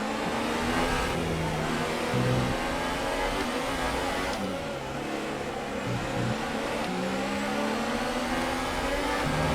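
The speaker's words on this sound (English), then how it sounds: "But Seb keeps his car in front." Formula 1 cars race around the Singapore street circuit in the F1 2018 video game, their engines droning loudly and continuously with pitch shifts as they rev through corners.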